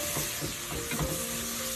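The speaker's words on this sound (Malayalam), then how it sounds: "നന്നായിട്ട് ഇളക്കി കൊടുക്കുക." Chilli powder, cumin, coriander and garam masala stirred in a pan for a paneer matar masala, a soft steady sizzle with a few scraping stirs of the spoon, close and fairly quiet.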